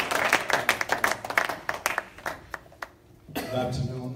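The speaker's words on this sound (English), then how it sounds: "Everybody give him a round of applause." Scattered hand clapping from a church congregation welcoming a visiting pastor, distinct claps thinning out and fading, then a voice begins speaking near the close.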